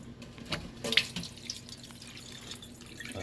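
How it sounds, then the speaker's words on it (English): Tap water runs and pours into a sink during an aquarium water change for a pet python's tank, a steady close splashing stream with a brief louder gush near the start. "As you can see, the water's pouring out now."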